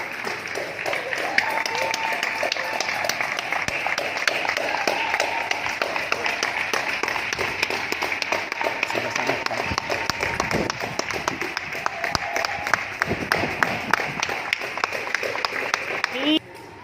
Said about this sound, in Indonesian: di sini juga ada kebiasaan setiap jam 8 malam itu ada tepuk tangan gitu